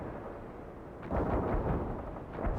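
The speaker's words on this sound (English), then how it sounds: "Incoming fire!" Artillery fire booms in the World in Conflict battle game: a low rumbling barrage swells about midway and keeps pounding, with a sharp burst at the end, loud and continuous without any talk.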